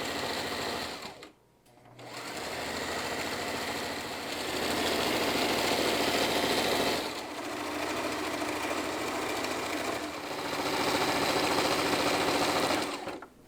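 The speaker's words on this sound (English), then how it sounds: "I'm going to just sew up until a little bit past this." A sewing machine runs in long steady bursts, stitching fabric with a fast mechanical whir, pausing briefly between runs; no one speaks.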